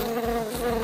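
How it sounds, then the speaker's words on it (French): Cartoon bees buzz steadily and loudly throughout, a continuous droning hum with slight wavering pitch and no voices over it. "Oh, pourquoi il y a des abeilles ici?"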